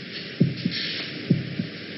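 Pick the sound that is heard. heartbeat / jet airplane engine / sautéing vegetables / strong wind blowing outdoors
heartbeat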